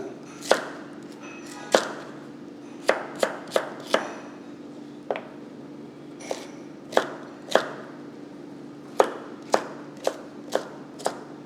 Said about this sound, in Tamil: நல்லா பொடியாக நறுக்கிக்குங்க